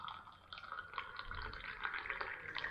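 Hot Moroccan tea is poured into a glass after dinner, a faint, close trickle of liquid with small splashy pulses and rising fill sounds, quiet and steady with no talking.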